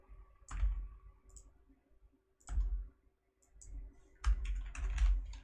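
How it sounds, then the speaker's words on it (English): Bursts of clicky typing on a computer keyboard come in several short clusters separated by pauses, close and crisp with no talk. "I'm typing those out loud because I also have to admin this one"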